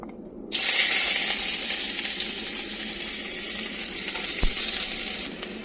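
Chopped onions fry in hot mustard oil with bay leaf and whole cumin. A loud, bright sizzle starts suddenly and holds steady, with one sharp clink partway through.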